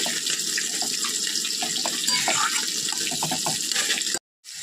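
A little water splashes into a cooking pot of taro stolons with shrimp, a steady close trickling rush lasting several seconds before cutting off abruptly.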